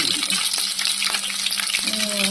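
Native garlic sizzles in a pan while a Kannada-style okra gojju is being cooked. The sizzle is steady and close, with light stirring scrapes and clicks now and then.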